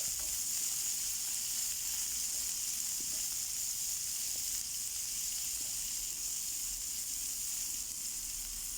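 Cauliflower pieces frying in a pan of oil for a cauliflower masala curry, giving a continuous, even hiss and sizzle at close range with faint pops, and nobody speaking.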